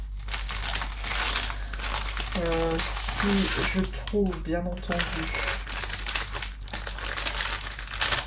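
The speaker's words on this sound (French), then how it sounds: "je vais juste ouvrir quand même le paquet avant de commencer le tag" A package is opened, its plastic wrapper crinkling and crumpling steadily at close range while someone talks over it in French.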